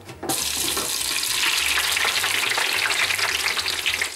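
Onion frying in hot oil, a loud, steady sizzle and crackle that bursts in after a short silent moment and continues evenly to the end, close and alone.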